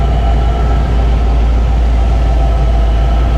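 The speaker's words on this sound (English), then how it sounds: "Engine runs really smooth." Stock engine of a 1959 Cadillac Coupe DeVille idling smoothly, a loud, steady low rumble with no change in pace, heard close up without any talk.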